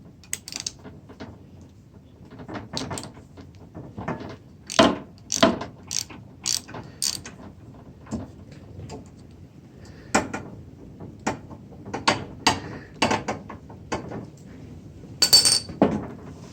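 A ratchet wrench with a spark plug socket working on a Snapper Snow Pup snow thrower, close up, with irregular bursts of crisp metallic clicking and occasional clinks of the tool, separated by brief pauses.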